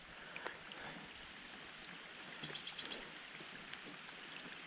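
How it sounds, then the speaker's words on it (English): Light rain falling on a West Virginia fishing pond with lily pads on a warm evening, a steady soft hiss of drops across the water with a few sharper patters, fairly close and without talk. "Rain's starting to slack off a little bit"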